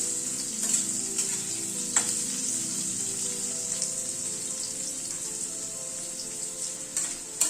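Potatoes frying in hot oil tempered with asafoetida, curry leaves, cumin and dried red chillies give a steady, close sizzle with light scraping as they are stirred, with no talk over it.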